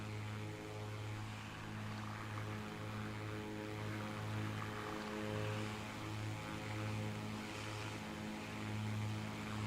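Twin propeller engines of a Beechcraft Baron 58P in Microsoft Flight Simulator 2024 drone steadily with a deep, pulsing hum, synchronized at the same RPM, continuous and even throughout, with no voices.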